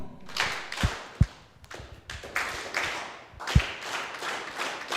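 An audience at an AI animal husbandry carnival in Kenya claps in scattered, uneven bursts, with a few sharp, loud individual claps and softer thumps spread across the clip and no talking.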